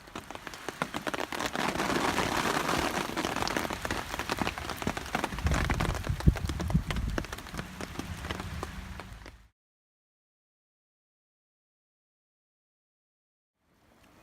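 Steady rain pattering on a hammock camp in Borrowdale in the Lake District, dense and close for about nine seconds before cutting to silence.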